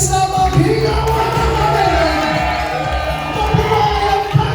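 Wedding guests at a reception venue clap and cheer for the newlyweds, a dense, steady crowd noise of applause and shouts running throughout with nearby voices mixed in.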